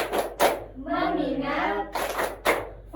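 Rhythmic 'tepuk fokus' hand clapping in a classroom-style focus routine, a few sharp claps between children's chanted voices, close and fairly loud.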